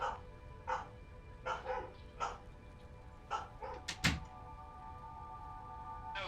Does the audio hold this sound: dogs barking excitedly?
yes